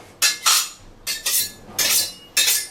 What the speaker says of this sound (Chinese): 这个刀切菜有点不利了，给它磨一下